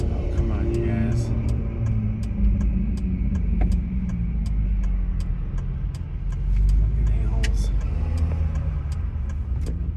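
Road traffic in Los Angeles County's valley: a constant low rumble of cars and engines that swells and fades as vehicles pass, with a voice heard intermittently over it.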